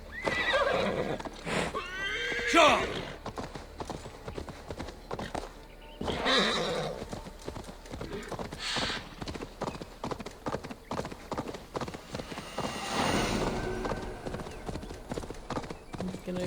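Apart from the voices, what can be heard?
horse neighing and hooves in video game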